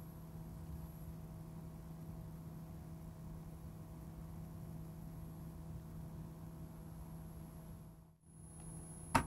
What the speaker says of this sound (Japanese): CPU ファンは回転しています。